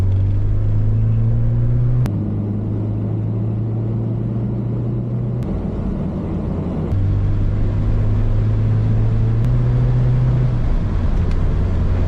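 A Volkswagen Golf 2 GTI engine runs steadily at idle and low revs, a loud, close, even rumble with a few brief shifts in pitch and no one talking.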